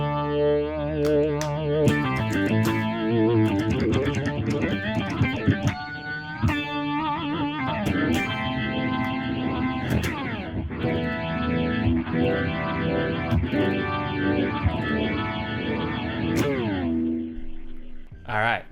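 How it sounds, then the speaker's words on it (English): An organ tone from an Axe FX modeller with drive fuzz added, played as loud, continuous chords and runs with a distorted, chorused edge and echo, alone with no talk, before a sudden cutoff at the end. "This adds some fuzziness to it."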